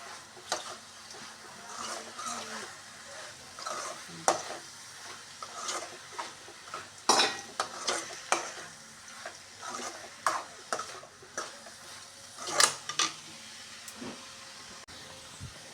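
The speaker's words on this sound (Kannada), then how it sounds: "ಕಾಯಿ ತುರಿ ಹಾಕಿ ಒಂದು 5 ನಿಮಿಷ ಫ್ರೈ ಆಗಬೇಕು ಇದು." Grated coconut stirred and frying in a pan with a bottle gourd peel curry, giving soft, steady sizzling broken by intermittent scraping and clinking stir strokes, fairly quiet and close, with no talking.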